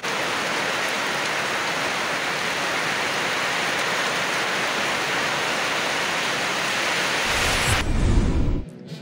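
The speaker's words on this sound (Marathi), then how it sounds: "वादळी वाऱ्यासह विजांच्या कडकडाटात मध्यम ते मुसळधार पावसाने हजेरी लावली" Heavy unseasonal rain with stormy wind during an evening thunderstorm in Khed taluka near Pune pours as a dense, steady roar for about eight seconds before cutting off abruptly near the end.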